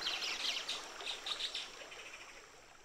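Birds chirp and sing in quick, faint bursts beside the Huatulco River, with a soft continuous wash of background noise beneath them.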